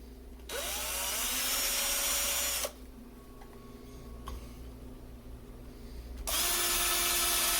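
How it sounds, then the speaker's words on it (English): A power drill whirs loudly for about two seconds, stops, then starts up again near the end, with faint scraping between bursts, while building a DIY electric smoker. "And then I'm going to drill where that imprint was."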